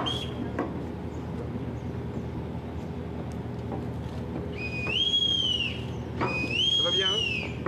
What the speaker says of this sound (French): On va attendre que le sifflet soit terminé.